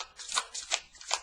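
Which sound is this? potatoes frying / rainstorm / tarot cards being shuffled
tarot cards being shuffled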